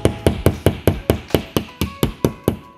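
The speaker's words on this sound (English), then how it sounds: "I'm going to use Mr. Hammer as my friend" A hammer drives screws into a wall while a TV mount is put up, about a dozen sharp, evenly spaced blows landing close and loud in a steady rhythm, with no talk.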